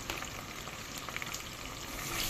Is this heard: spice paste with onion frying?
yes